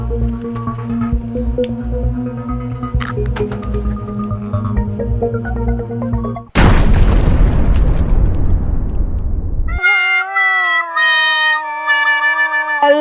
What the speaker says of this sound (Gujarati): લગનવાળા ઘરમાં બોમ્બ ફૂટ્યો